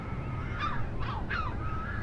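A bank cormorant gives a few hoarse, honking calls in quick succession, moderately close, over a steady low background rumble with no speech.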